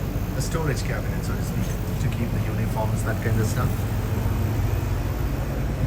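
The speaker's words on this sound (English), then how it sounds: "Sorry about the noise, it's the AC going on." An air conditioning unit hums steadily inside a 53-foot food trailer, a constant mechanical drone running beneath a man's close, ongoing talk.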